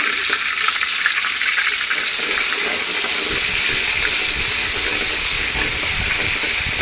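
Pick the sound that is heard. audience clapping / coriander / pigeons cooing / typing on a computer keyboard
coriander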